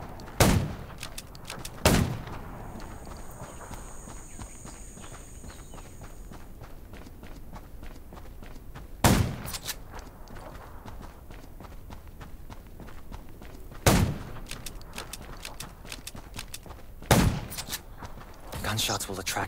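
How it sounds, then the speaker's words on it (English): Several sharp, loud video game gunshots from Garena Undawn ring out at irregular intervals over a quieter background of faint shuffling and movement. "Gunshots will attract more zombies."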